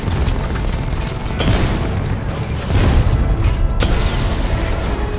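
A drone exploding in the video game Batman: Arkham Knight, loud sustained booming blasts with layered rumbling debris and bursts, no speech.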